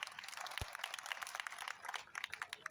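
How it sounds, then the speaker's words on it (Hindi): Faint, quiet applause from participants in an online Python programming class, a steady patter of many claps lasting a few seconds with no talk over it. "तालियां भाई जोरदार"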